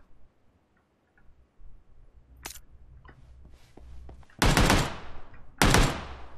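Gunfire in the PUBG Lite shooter game: faint distant pops and ticks at first, followed by two loud, close bursts of shots about a second apart, each with a sharp crack and a short trailing echo.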